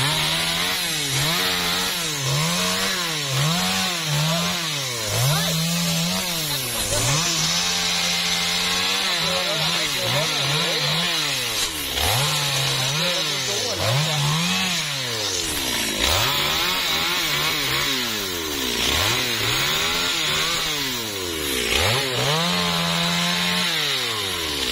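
A G4500 chainsaw cuts into a huge dipterocarp tree, its engine loud and close, revving up and down again and again as the bar bites and eases through the wood, with no pause.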